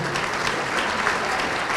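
Sustained applause from an audience at a black tie gala benefit, steady dense clapping filling the whole short stretch at moderate level, with no speech over it.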